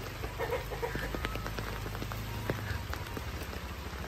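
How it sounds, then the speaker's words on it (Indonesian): Steady rain patters on surfaces in a village in Cinangka, near the Citambur waterfall, a dense continuous hiss with scattered drop ticks, and a chicken clucks faintly in the background. "hujan lagi"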